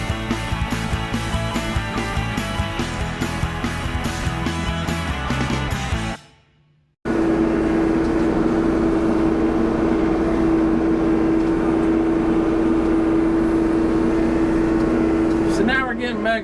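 An RK55 tractor engine runs with a loud, steady drone and a strong sustained tone, close to the microphone, after a brief cut in the sound; voices are not evident over the engine.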